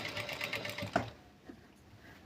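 A sewing machine with a double presser foot stitches a maggam work blouse neck, a quiet, close, rapid whirring burst that stops after about a second, followed by faint handling sounds.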